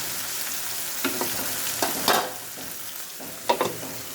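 Okra (bhendi) fries in a covered pan on low heat, giving a steady soft sizzle with a few sharper pops and crackles spread through, close and quiet, with no voices.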